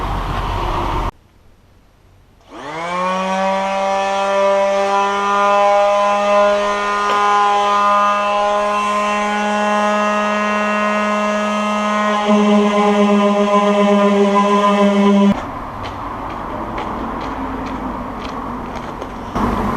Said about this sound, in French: Je reprends le ponçage avec ma nouvelle ponceuse.